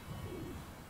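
Bird cooing in the video game Child of Light, a short soft dove-like coo lasting under a second, faint against a steady game background.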